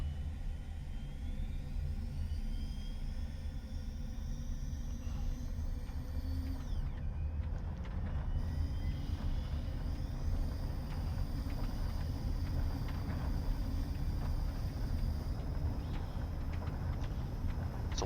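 Steady, low rumbling roar of an F-117 jet engine during takeoff in a flight simulator game, fairly quiet and continuous with a faint rising whine and no talking.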